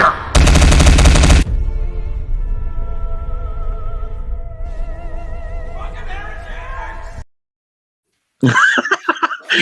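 Gunfire in a fantasy battle: a loud burst of rapid shots opens, followed by a fading droning rumble, then a short silence before voices and laughter return.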